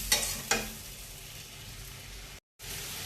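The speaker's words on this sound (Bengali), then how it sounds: "লাল লঙ্কা, জিরে গুঁড়ো, ধনে গুঁড়ো দিয়ে এবার একটু সুন্দর করে কষিয়ে নেব" Elephant foot yam curry (ol dalna) sizzles steadily in a pan with red chilli, cumin and coriander powder, two sharp scraping stirs near the start, then continuous frying hiss with a brief dropout near the end.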